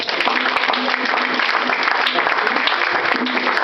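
A church congregation claps and cheers in sustained, dense applause that fills the room without a break.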